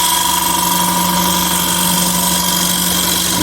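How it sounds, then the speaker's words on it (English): Wood lathe spinning a bowl blank with a gouge taking a slow, deliberate cut, a steady whirring hum with a faint continuous scraping texture, no talk. "Much more slow, deliberate cut. Just let the gouge do it."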